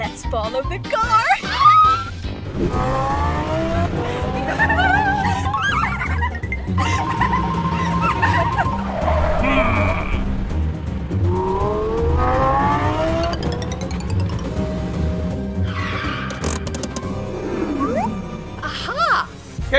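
A chase in a Lamborghini plays out with engines revving loudly, tires squealing through skids and cars roaring past, a continuous, busy racket with talking over it.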